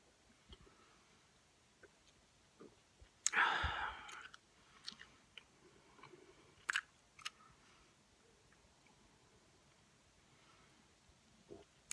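Close-up ASMR mukbang chewing of orange bell peppers, pickles and cherry tomatoes, one loud wet crunchy bite followed by scattered soft mouth clicks and quiet chewing against near silence.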